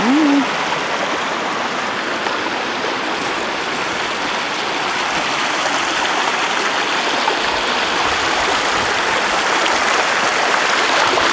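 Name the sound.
stream water flowing at a ford on a moor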